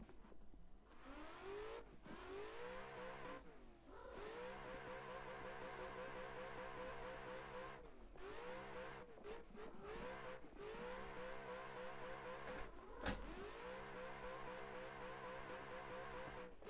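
Simulated car engine in Assetto Corsa revving in second gear, a continuous loud drone whose pitch sweeps up and drops back repeatedly in short bursts, with brief cuts between revs and a sharp spike near the end.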